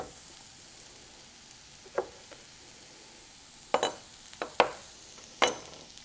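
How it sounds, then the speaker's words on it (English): Cauliflower frying in a pan gives a soft steady sizzle, broken by a few sharp louder crackles and spatters toward the end. "Our cauliflower is cooking up beautifully."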